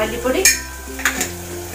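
Garam masala is stirred in a pan while sautéing for a mutton curry: a soft sizzle with a couple of sharp scraping clatters of a spoon against the pot, close and fairly loud.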